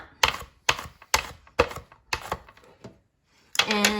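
Zucchini sliced on a kitchen mandoline without the handguard: about seven quick, crisp rasping strokes in a steady rhythm, close and clear, followed after a short pause by one longer, brighter scrape.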